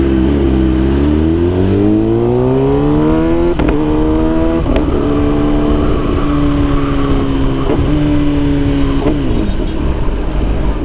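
A Kawasaki ZX10R sport motorcycle engine revs up in a rising sweep, then blips repeatedly with sharp quickshift-style cuts, loud and close with no talking.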